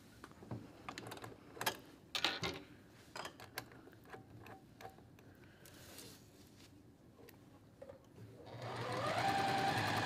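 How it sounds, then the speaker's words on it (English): A sewing machine stitches a quarter-inch quilting seam, with faint clicking and handling at first, then a steady close mechanical whir builds up and runs for the last seconds. "I'm gonna sew these with a 1/4 inch seam, and I'm gonna sew with the seams down and the flat side up."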